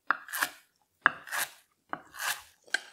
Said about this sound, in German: Dann nehmen wir uns das Zitronengras und schneiden das auch einfach grob mit runter.